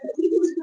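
A Bombay pigeon gives a brief, close, mellow coo, a single soft throaty note held for under a second.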